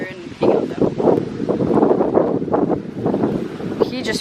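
Strong wind gusts batter the microphone at a beach, a loud, uneven rumble of buffeting that swells and dips throughout, with faint voices partly buried underneath.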